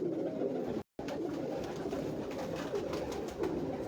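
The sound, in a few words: dab pigeons cooing on a Lahore rooftop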